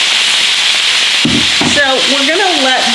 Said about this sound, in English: it is probably going to make some sizzle like that